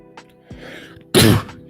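A single sharp sneeze, loud and close, preceded by a brief inhale and small throat noises.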